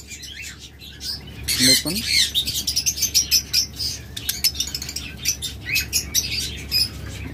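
Caged pet birds, including green cheek conures, chirp and squawk in a steady run of short, bright calls at close range, while a voice talks over them.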